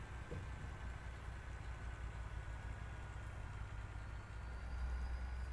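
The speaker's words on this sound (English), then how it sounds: "Hear that nice engine while we're rolling through here." A truck engine in American Truck Simulator idles and rolls along at low revs, a steady deep rumble with a constant hum that swells slightly louder toward the end, heard alone without talk.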